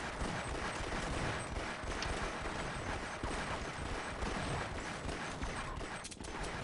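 Shotgun fire in Half-Life, a dense, continuous barrage of gunshots and clattering action that stays loud and busy throughout.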